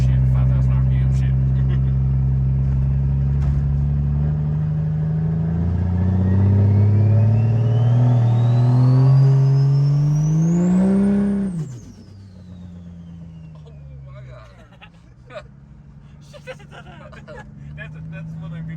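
A 1500-horsepower plow truck engine revs hard on a dyno, climbing in pitch to a loud peak with a rising turbo whine before cutting off abruptly, then idling low with faint clatter afterward.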